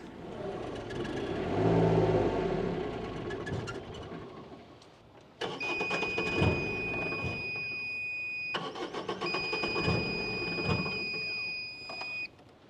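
A mini excavator engine runs while digging, a steady close rumble that dips midway, then returns with a higher whining drone layered over the idle until near the end.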